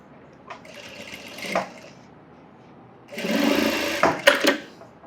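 Sewing machine stitching piping onto a blouse in two short bursts, the second longer and louder, with quiet handling between them, close up.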